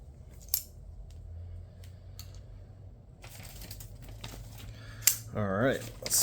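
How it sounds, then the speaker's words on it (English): A freshly stropped 14C28N steel knife slices through paper in an edge retention test. Crisp, close rasping cuts come in a few separate bursts over quiet room tone, with a denser scraping cut near the end. "let's see how we are cutting paper now"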